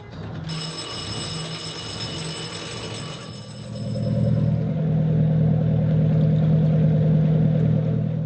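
A high ringing whine cuts off, then the starboard engine of an aluminum Chris Craft Roamer boat rumbles into life and settles into a steady low drone.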